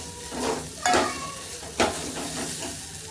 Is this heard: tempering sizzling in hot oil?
yes